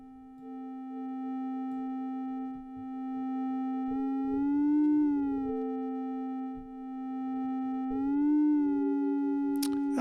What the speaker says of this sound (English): now that's a rectangle wave